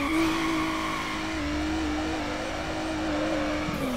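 A car drifts in the video game Need for Speed Underground, its tires squealing in a sustained high-pitched skid over a steady engine drone, loud and continuous with no voices.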